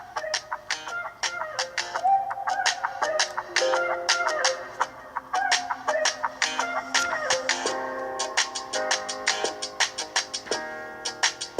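Chickens clucking in quick, busy, overlapping bursts with crowing-like calls, lively fowl chatter that is close and continuous, with no talk.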